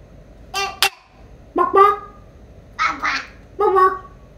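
A voice imitates a chicken clucking in several short, bright vocal bursts with pauses between them, loud and close.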